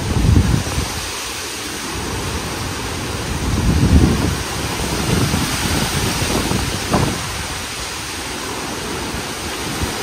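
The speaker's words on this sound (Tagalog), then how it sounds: "Grabe naman, lumakas na naman ang hangin." Strong gusting wind from the tail end of a typhoon in a flooded area, a rushing roar buffeting the microphone with surges and lulls, loud and close, with no voices.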